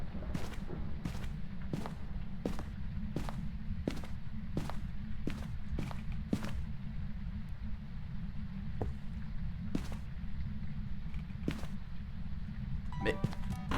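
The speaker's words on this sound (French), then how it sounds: "Pour moi ils étaient normaux les bruits de pas." Footsteps in the horror game Phasmophobia thud in a steady series of sharp, evenly spaced impacts over a constant low droning background, pausing then resuming with a few later steps.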